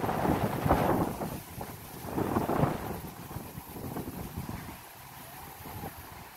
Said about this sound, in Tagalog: Sobrang hangin na kasi ngayon eh.